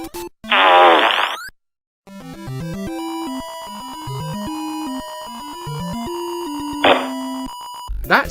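Cartoonish fart noises from a mobile fart survival game app, loud bursts at the start and near the end around a run of electronic beeping game tones, no speech.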